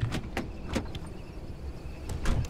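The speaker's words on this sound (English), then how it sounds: "Stop opening the doors at random." Car doors opening and thudding in the driving game Pacific Drive, a few sharp clunks and latch clicks spaced out over a low engine rumble, close and fairly loud.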